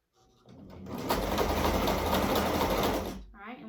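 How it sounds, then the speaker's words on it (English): A foot-pedal sewing machine stitches fabric in a steady, loud mechanical whir with rapid rhythmic needle clatter lasting a few seconds, then winding down to quiet near the end. "This is how the sewing machine sews."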